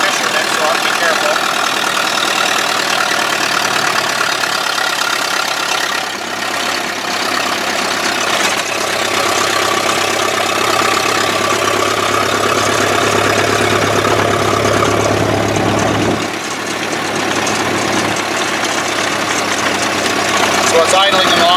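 Engine of a 1928 Chevrolet AB National idling steadily, heard from inside the car as a continuous loud rumble on a dead-end road, with a brief dip partway through and talk over it.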